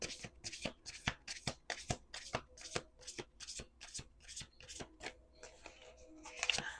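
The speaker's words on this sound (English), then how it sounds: "I don't like it when readers shuffle too fast." Tarot cards are riffled and shuffled by hand in a quick, even rhythm of about a dozen crisp, close flutters, easing off into softer card handling at the end with no talking.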